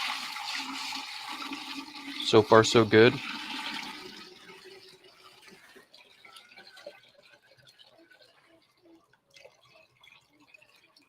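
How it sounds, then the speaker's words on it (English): Water poured out by hand from a container instead of through a transfer pump, a short loud gush of splashing liquid followed by fading drips, with a person speaking briefly over it. "I was gonna try not to make a mess pouring water out instead of using a transfer pump here."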